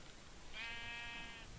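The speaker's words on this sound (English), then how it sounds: "Found some sheep." A single sheep bleats in the video game Minecraft, a clear, wavering tone held for about a second over quiet background.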